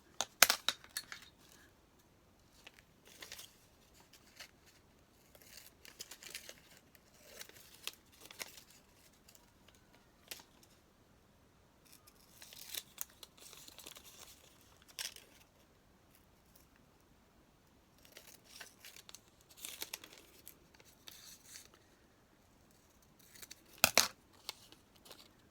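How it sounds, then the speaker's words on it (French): Small scissors cut a small paper square from a printed label while a scrapbooking card is made: quick, scattered snips and paper rustles come in bursts over about 25 seconds, fairly close, with no talking. "je vais découper le petit carré qui m'intéresse"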